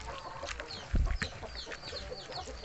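Rhode Island Red chickens cluck and fuss at close range, with higher bird chirps scattered throughout and a brief louder thump near the middle.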